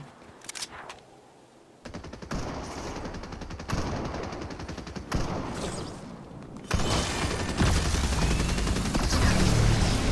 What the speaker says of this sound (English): Also got to deal some damage with assault rifles as well